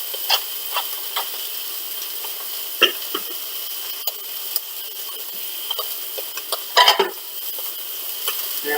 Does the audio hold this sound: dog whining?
no